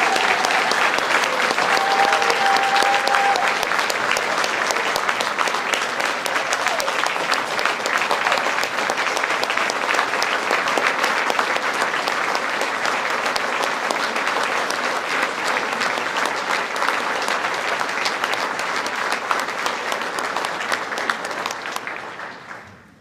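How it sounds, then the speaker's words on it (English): Large dinner audience at a student ambassador event applauds for over twenty seconds, a loud, dense and steady wall of clapping that fades out at the end. "Can we please have one last round of applause for all of our 2023 ambassadors?"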